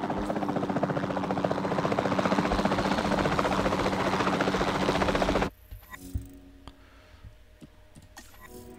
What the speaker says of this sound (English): the sensible thing is to take a Capture Team helicopter. You can trank it from the air.